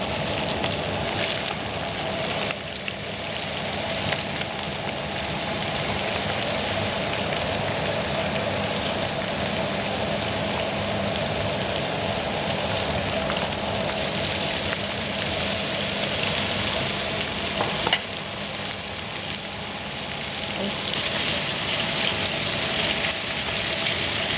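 Small anchovies (hamsi) frying in a pan, a steady, loud sizzle of hot oil that crackles continuously and evenly for the whole stretch, with no talking.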